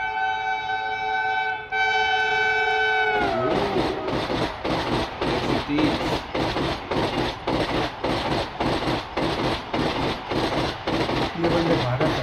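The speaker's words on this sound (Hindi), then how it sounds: "ये वंदे भारत आई है।" A Vande Bharat express train blows a long horn, then rushes past close by with a rapid, regular rhythmic clatter of coaches that continues loudly to the end.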